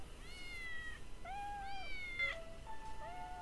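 Several mutated cats in the video game Postal 2 (Apocalypse Weekend) let out a string of drawn-out, high tonal meows, about four or five cries overlapping over a steady background hum.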